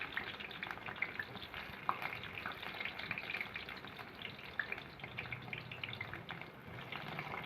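Onions, green chillies and onion greens fry in a pan for gongura chicken curry, giving a constant crackling sizzle at moderate loudness with no talking.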